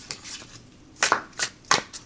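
Overhand shuffling of a new 350 GSM tarot deck with a matte varnish finish, heard as a few quick, crisp papery riffs in separate bursts, close and fairly soft with short pauses between them.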